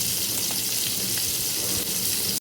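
Chili, onion and garlic fry together in a pan with a constant close hiss and soft crackle. Faint bumps sound under the sizzle, and it ends in an abrupt cut.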